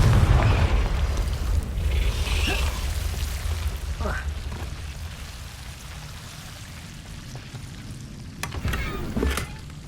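Confringo fire spell explosions in Hogwarts Legacy, a loud rumbling boom at the start that trails off into a crackling, rain-like wash, followed by a few sharper bursts near the end.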